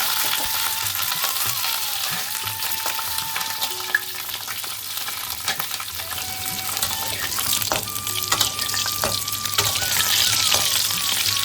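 Diced pointed gourd frying in hot mustard oil in a kadai, a steady bright sizzle with soft stirring scrapes and occasional clinks, close and continuous with no talk.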